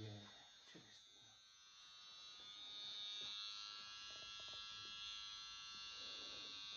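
An electric hair clipper buzzes steadily while shading a nape at a barber's, the hum swelling and easing as it moves over the hair, with quiet talk in the background.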